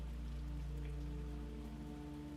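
Steady rain falling on a surface on a dark, windy mountain night, a continuous soft hiss with a low rumble beneath, even and unbroken throughout with no voices.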